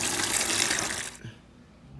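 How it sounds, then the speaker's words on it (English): Running water pours steadily into a bucket for about a second, a broad splashing rush that then cuts off, leaving a quieter drip and room tone. "Time to fill our bucket with water"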